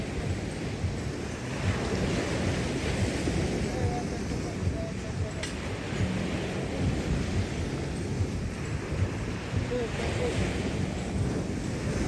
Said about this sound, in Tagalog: So meaning, malakas yung hangin.